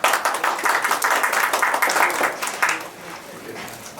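Audience applause at a cricket event honouring named participants, steady dense clapping for about two and a half seconds before thinning, with some voices mixed in.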